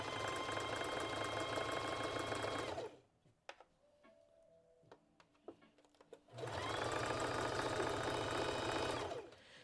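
A serger trims and finishes a seam on a Valentine's Day dress, two loud, dense bursts of rapid machine stitching separated by a quieter pause with small handling clicks.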